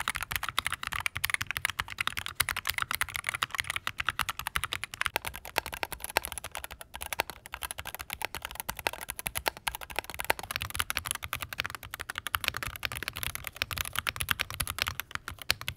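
Close, quick typing on a Wooting 60HE keyboard in an aluminum Redux case with a brass weight, thin foam insert, DCX Hyperfuse keycaps and hand-lubed L60 switches, dense clicks and clacks throughout.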